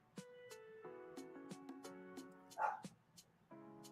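A dog named Mammoth barks outside at a wrestling event. Several quiet, distant barks and whiny yips come in an irregular series.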